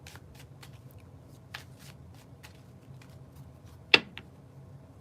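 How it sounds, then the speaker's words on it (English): Tarot cards are shuffled by hand in a quiet room, soft papery riffles and taps ending in one sharper snap of the deck near the end. "I'm going to keep shuffling."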